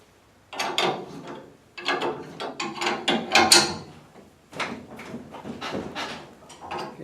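Ratchet wrench tightening a split nut and nut on a Model A Ford during brake and running light installation, heard as three close bursts of rapid metallic clicking strokes separated by brief pauses, with no talking.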